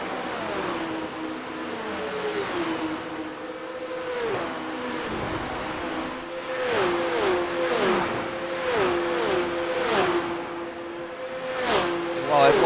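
A Porsche 911 Cup (992.2) race car engine in iRacing, howling down the main straight at Monza with repeated rising revs and sharp upshifts, loud and continuous with other cars nearby and a voice talking over it.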